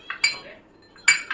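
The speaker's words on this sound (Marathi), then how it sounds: "त्यानंतर मग त्याला असं ढवळूया" A spoon clinks against a bowl while stirring a jaggery and sugar kharvas mixture, giving a few bright, quick metallic taps close by.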